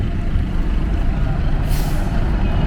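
A bus air brake at the Sukabumi bus terminal releases a sharp, loud hiss near the end, cutting over a steady low idling engine rumble and terminal background noise.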